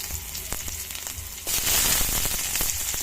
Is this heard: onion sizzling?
yes